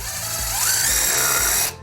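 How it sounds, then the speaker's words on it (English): A cordless drill drives a screw into thin spruce strapping, a loud, close, rising motor whine that holds for under two seconds and then cuts off abruptly. "Start your bit, put the drill on reverse, and push."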